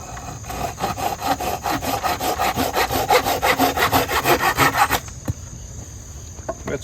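A hand saw cuts through a bent wooden bow drill spindle in a steady run of rapid, rhythmic rasping strokes, close and loud, ending abruptly partway through, followed by near quiet with a few faint knocks.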